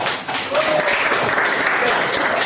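A burst of applause from a group, a dense patter of clapping hands that fills the room steadily for a couple of seconds.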